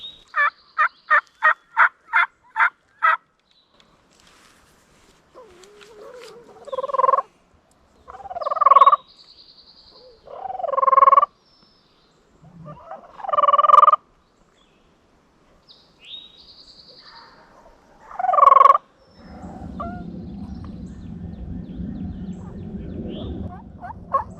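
Wild turkeys gobble in an outdoor hunting setting: a rapid run of short calls opens, followed by several loud, separate gobbles spaced a few seconds apart, then a steady low rumble of background noise.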